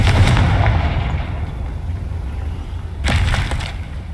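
A Confringo fire spell from the video game Hogwarts Legacy goes off in two loud, crackling blasts, one at the start and another near the end, with a rumbling wash of noise between them.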